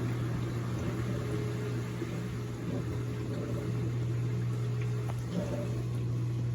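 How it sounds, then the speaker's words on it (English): An Amana dishwasher running its drain cycle gives off a loud, steady hum with a strong low drone and a broad rushing wash of noise, continuous throughout with no talking. "It's doing a drain right now. It's quite noisy."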